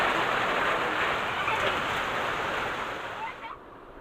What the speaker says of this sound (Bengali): দেখুন কি পরিমাণ ঝড় ছাড়ছে। বৃষ্টি নামে গেছে।